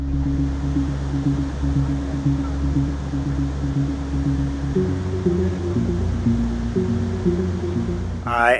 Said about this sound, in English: I am just down from the Savica waterfall